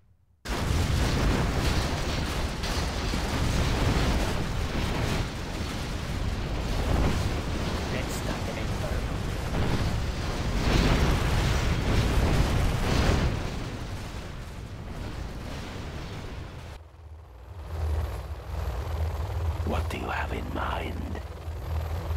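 Inferno cannon artillery from C&C Generals Zero Hour booms in a dense, continuous barrage of loud explosions, then breaks off near the end into quieter game sounds and voice lines.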